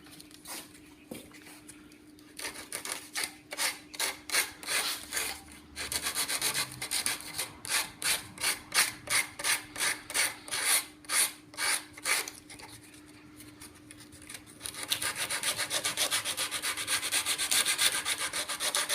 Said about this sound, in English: just doing a little sanding by hand, and I'm going to use some 80 grit sandpaper